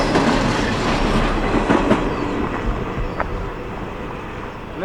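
CSX freight train I-009 rolls past at close range, a steady heavy rumble of rail cars with rhythmic clickety-clack wheel beats running through the whole stretch.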